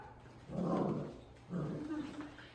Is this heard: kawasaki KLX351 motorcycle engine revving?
no